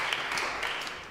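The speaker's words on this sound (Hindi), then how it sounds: "तालियां इस बात पे यार" A studio audience on a talk show breaks into applause, a dense, steady patter of many clapping hands that holds for about a second at moderate loudness, with no one speaking over it.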